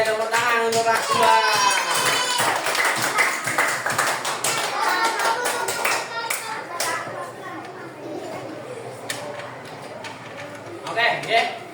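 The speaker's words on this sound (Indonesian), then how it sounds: "tepuk tangan untuk kelas 2" A class of second-grade children applauds in a classroom, a dense burst of clapping mixed with their voices that is loudest at the start and gradually thins out, with a few scattered claps near the end.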